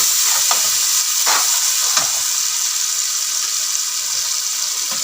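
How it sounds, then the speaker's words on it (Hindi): Spiced masala of tomatoes, green chilies, red chili powder and cumin frying in a pan for beef yakhni pulao, giving a loud, steady sizzle with occasional stirring scrapes and no talking. "इसको तकरीबन 2 से 3 मिनट तक इस मसाले को भूनना है"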